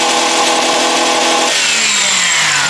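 A V6 Ecotec engine with full exhaust, cats and muffler holds high revs against the rev limiter. It is heard from the rear, loud and steady for about a second and a half, then the revs drop away.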